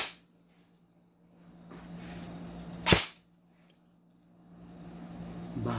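A spring-powered airsoft gun fires once through a chronograph, a single sharp close crack in the middle of a quiet stretch with faint background hum, no speech.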